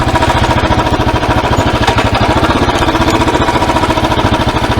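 A motorbike ridden along a muddy track gives a loud, close engine drone with fast, even rhythmic pulsing that holds steady for the whole stretch.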